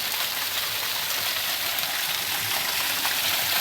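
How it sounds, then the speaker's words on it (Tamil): Water falls steadily at a temple after heavy rain, pouring like a waterfall, with a dense, continuous hiss and splash close by and no break in the rushing. "பாருங்கள் எவ்வளோ அழகாக ஃபால்ஸில் விழுந்த மாதிரி"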